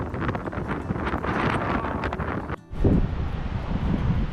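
Strong wind buffets the microphone on an Alaskan road trip, a heavy rumbling roar that breaks off briefly midway before surging back as loud as before.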